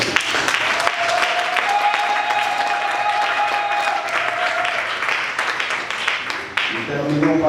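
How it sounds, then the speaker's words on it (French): A congregation at a French-language church worship service applauds and cheers, sustained clapping running throughout with voices and tonal sounds mixed in. "Je vais encore écouter des acclamations plus fortes."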